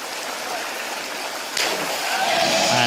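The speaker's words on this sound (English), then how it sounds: "A nice rip sound. That's a tearing sound going through the water." A platform diver's rip entry into the pool, heard as a sudden brief splash-tear of water about halfway through, standing out over steady crowded arena noise with a faint commentator voice.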